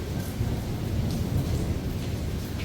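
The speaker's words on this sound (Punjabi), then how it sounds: "ਬੱਦਲ ਵੀ ਬੋਲਦਾ ਦੇਖੋ ਆਵਾਜ਼ ਸੁਣ ਕੇ" Thunder rumbles low and heavy during a night rainstorm, a sustained deep roll under a light patter of rain, with no one speaking.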